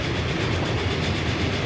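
A train in the Transport Fever 2 game runs along the rails, a steady, dense rumble with a faint clickety rhythm holding level throughout, close by and with no one talking.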